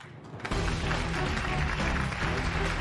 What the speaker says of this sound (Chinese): 再一次掌声有请目前的擂主张宇霍星辰